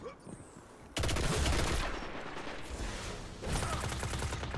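Dense automatic gunfire from Destiny: Rise of Iron on PS4, loud sustained bursts after a quiet start, with a second burst near the end.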